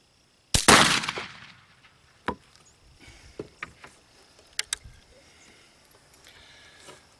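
Black powder gun fired with homemade powder and aluminum percussion caps, one sharp, loud report that booms and fades, followed by scattered softer pops and clicks at an outdoor range, with no talking.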